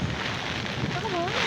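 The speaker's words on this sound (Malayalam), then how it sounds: "ഓ കണ്ട ഭയങ്കര മഴ" Heavy monsoon rain pours steadily outdoors in a broad, even hiss that fills the whole clip, with faint voices and a brief tonal sound mixed in near the end.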